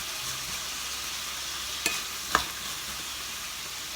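Fatty, steak-grade beef is stir-fried with Chinese kale in a hot pan, giving a steady, close sizzle broken by two sharp scraping clinks from the stirring utensil. No one speaks.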